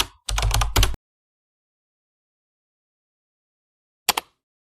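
Quick bursts of computer keyboard typing as a web search is entered: a rapid run of key clatter at the start, a long silence, then one short burst of keystrokes near the end.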